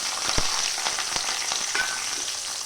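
Halved small onions fry in hot oil for a curry, giving a steady close crackling sizzle with scattered sharp pops throughout.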